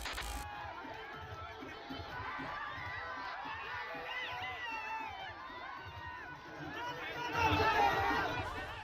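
A packed crowd fills a rally ground at a Bihar by-election campaign event, a steady hubbub of many voices with chatter and scattered shouts, swelling louder near the end.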